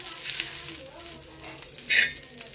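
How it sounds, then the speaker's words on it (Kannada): Pundi greens frying in hot oil in a home kitchen give a faint, steady sizzle, broken by two short, sharper hissing bursts as they are stirred. "ಒಳ್ಳೆಣ್ಣೆನ ಹಾಕಿ ಹುರ್ಕೊಳೋಣ"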